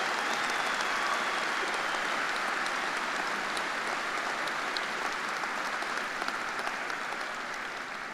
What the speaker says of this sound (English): let's give a big round of applause to honor Amy Dunaway-Haney